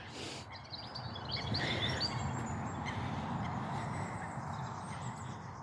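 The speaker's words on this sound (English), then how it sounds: "The birds are certainly singing." Birds sing and chirp outdoors near a large tree in stormy weather, small high calls scattered through steady rushing wind or water noise that stays loud throughout.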